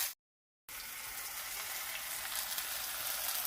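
Bitter gourd fries in a pan with a soft, continuous sizzle, faint and steady, after a brief moment of silence at the start.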